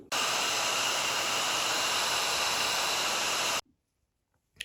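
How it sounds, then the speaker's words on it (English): A handheld hair dryer blows on a wet watercolor landscape painting, a steady close whooshing hiss running for about three and a half seconds before cutting off abruptly into near silence. "Okay, so I took my hairdryer and dried that up"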